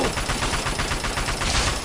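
Continuous automatic assault rifle fire in the Fallout 3 video game, a loud, dense stream of shots with no break across the whole short stretch.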